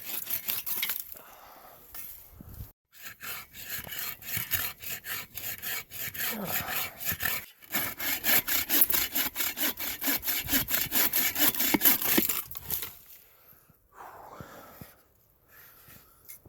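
A hand saw rasps steadily through alligator juniper wood in quick, rhythmic back-and-forth strokes, close by, pausing briefly between bursts of cutting.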